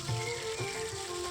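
Curry leaves and dried red chillies split down the middle sizzle in hot coconut oil for a beef fry, a steady close crackling hiss with a faint popping burst near the end, no talking.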